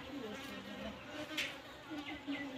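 Continental honey bees buzz softly at a hive in a low, wavering hum, several insects close by with faint passing whines rising and falling.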